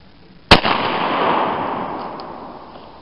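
A single sharp blast from a Savage M42 .410 shotgun while hunting rabbits, an abrupt loud crack followed by a long, fading reverberation across open ground.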